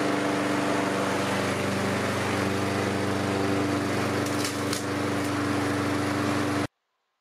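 A lawn mower engine runs steadily and loudly at close range, a constant droning hum that cuts off abruptly at the end.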